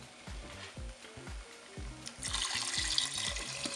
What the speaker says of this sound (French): Et puis je vais mettre mes 500 ml d'eau.